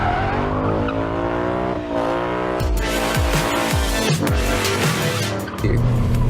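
A car with its stability controls switched off is pushed through a high-speed test maneuver near 100 km/h. A loud, sustained engine roar runs under sliding, squealing tires, close and continuous with no talking.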